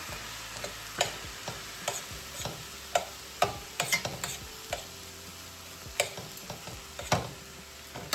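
Steak fries in a pan while a utensil shreds it, a low constant sizzle punctuated by irregular sharp taps and scrapes of metal against the pan.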